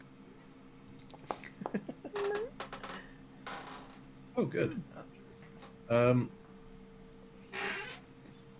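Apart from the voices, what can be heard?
cat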